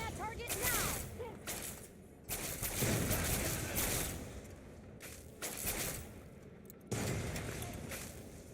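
Rapid gunfire from a firefight in Fallout 3: sharp, loud bursts and single shots in uneven clusters, with shouted soldier voices and combat chatter mixed between the volleys.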